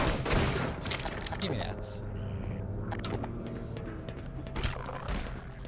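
Gunfire in the Black Mesa video game, with sustained bursts of shots and rumbling booms through the opening seconds and another burst near the end, loud and dense, while someone talks over it.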